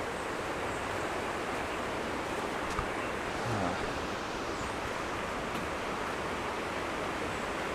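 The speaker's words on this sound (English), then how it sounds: "Here, it's just the river is constantly loud." Horse Pasture River rushing through a rocky, wooded gorge in Gorges State Park, a constant loud broadband roar of water without pause, heard alone with no talk.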